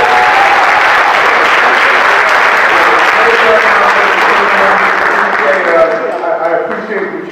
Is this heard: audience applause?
yes